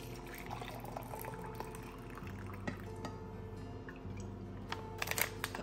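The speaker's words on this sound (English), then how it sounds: "So what I'm gonna do is pour my coffee." Coffee is poured into a kitchen milk frother with a soft, continuous liquid trickle. It stays fairly faint against steady background tones, with no talking.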